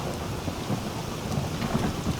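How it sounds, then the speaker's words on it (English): Steady thunderstorm with heavy rain in a Skyrim roleplay game world. A dense, continuous wash of rain stays loud throughout, with low rumbling thunder rolling underneath and no voices. "It is storming."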